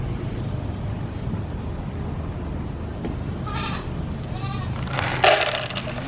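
Dairy goats on an urban homestead bleat twice at mid distance over a steady low outdoor rumble, with a brief louder clatter near the end.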